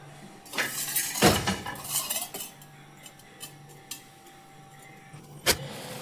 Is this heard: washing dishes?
yes